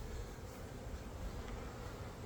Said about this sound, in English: There's definitely bees